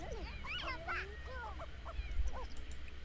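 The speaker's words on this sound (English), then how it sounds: "Is that dog just barking at my child?" A dog in The Sims video game barks and yelps in quick, uneven bursts, with squeaky whimpering calls over a low rumble of game background sound.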